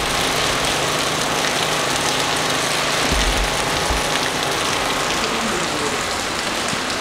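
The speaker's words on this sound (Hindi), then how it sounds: "अभी बारिश तो भाई ये आप लोग देख सकते हो" Rain falling on the roads of Islamabad, a dense, even hiss of drops on wet pavement that holds steady throughout, with a faint low rumble of traffic beneath and no voices.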